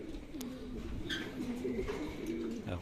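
Racing pigeons coo softly in the loft after a training flight, low murmuring calls repeating over a couple of seconds with faint chirps and light background noise.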